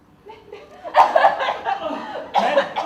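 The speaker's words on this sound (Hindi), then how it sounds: "तुमने मुझे खांसते हुए सुना?" A short cough bursts out amid agitated, overlapping voices, followed by another raspy outburst a moment later.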